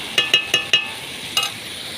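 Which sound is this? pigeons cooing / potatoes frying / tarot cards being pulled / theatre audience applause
potatoes frying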